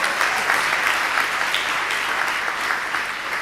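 An audience claps steadily at a student cultural evening, dense sustained applause filling the room at moderate loudness.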